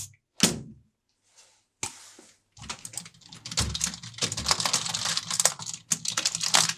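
A very dusty computer keyboard being cleaned, with scattered clicks and knocks, then a long stretch of rapid clattering key noise up close, broken by a few short gaps.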